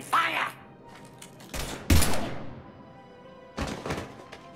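Gunfire from a firefight in the video game Mass Effect 2: sharp bursts of shots in separate clusters, loud against a quiet background, with voices briefly present.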